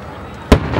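A single firework burst from a show over the Port Washington Narrows in Bremerton, a sharp loud bang with a short rumbling tail over steady background noise.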